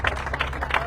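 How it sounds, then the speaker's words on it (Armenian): An audience applauds at a festival-style gathering, a dense, steady wash of clapping hands with a few sharper peaks, close and fairly loud throughout. "եկեք նորից ծափ տանք"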